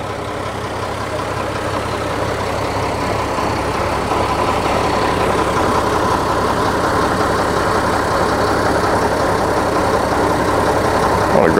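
A rebuilt Perkins diesel engine idles steadily on an old truck, a continuous loud low rumble that holds even throughout with no speech.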